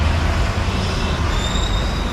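A metro train rolls past nearby Khadki metro station in Pune with a steady rumbling roar and faint high wheel squeal, loud and continuous throughout.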